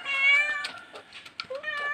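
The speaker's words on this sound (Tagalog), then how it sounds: "Andun pusa. Nagugutom na." A hungry stray cat meows repeatedly at close range, its high, drawn-out cries rising and falling in a steady series with brief gaps between calls.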